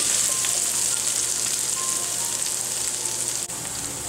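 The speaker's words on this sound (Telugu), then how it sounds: "ఉల్లిపాయలని ఇలా చిన్న చిన్న ముక్కలుగా కట్ చేసుకుని యాడ్ చేసుకోవాలి పచ్చివాసన వెళ్ళేంత వరకు బాగా ఫ్రై చేసుకోవాలి" Small chopped onions sizzle steadily in an oily pan for egg kurma, a continuous, close bright crackle with one brief stir partway through and no voices.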